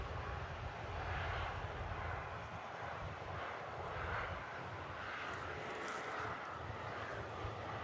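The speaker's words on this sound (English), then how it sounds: "I think I can hear a Valtra coming up the hill." A Valtra tractor works its way up a hill on a harvest field with heavy soil, a continuous engine drone that swells slightly and stays at moderate distance, mixed with wind noise.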